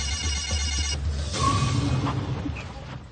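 A phone ringtone trills repeatedly for about a second inside a moving car, then cuts off, leaving road and engine rumble with a few brief electronic tones.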